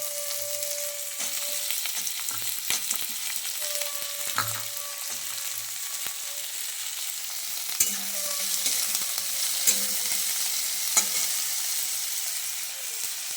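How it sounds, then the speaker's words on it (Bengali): Eggplant fries in a pan for Beto Sak with a steady close sizzle, broken by scattered clinks and scrapes of stirring and a few faint tonal hums, with no voices. "এবার আমি বেগুনটা দেবো।"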